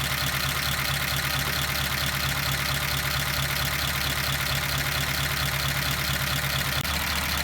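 A 1953 Pontiac Chieftain engine idles while warming up, a steady low rumbling thrum with an even pulsing beat that runs unbroken and close at constant volume.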